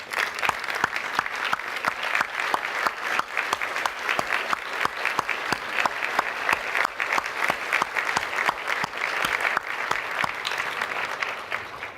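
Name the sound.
audience applause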